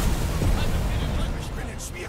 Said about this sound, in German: Das sind immer mehrere Explosionen gleichzeitig, Alter.